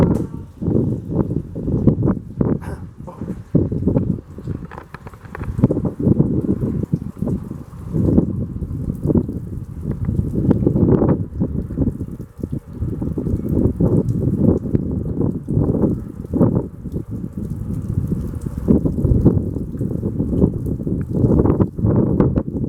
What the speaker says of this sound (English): That wind got strong, like blew me down.